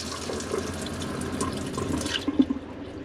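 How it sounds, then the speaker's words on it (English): Cold water runs steadily from a faucet fed by a water pump, a continuous splashing rush with a few drips and clinks near the end as the flow stops. "I should get some cold water."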